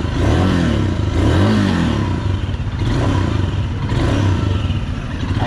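A Royal Enfield Himalayan FI ABS motorcycle engine runs nearby, a loud, steady low thumping rumble with rhythmic mechanical clatter and slight rises in pitch, heard alone without talk.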